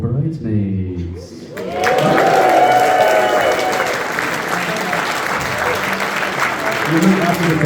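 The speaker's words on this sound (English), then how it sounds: "And now a big cheer for our beautiful bridesmaids." Wedding guests at Balbenie House in Scotland burst into loud, sustained clapping and cheers for the bridesmaids, a dense crowd roar following a short bit of talk, with voices mixed through the applause.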